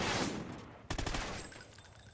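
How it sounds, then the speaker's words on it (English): Gunfire in the video game Call of Duty Ghosts comes as a burst of rapid shots with a sharp crack near the midpoint. A rumbling echo dies away after it, and no one speaks. "The gunfire seems to have stopped"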